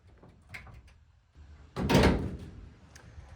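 The sliding door of a rusty 1966 Volkswagen bus is worked open with a few small clicks and rattles, then a loud scraping thunk as it shifts, close by with no talk.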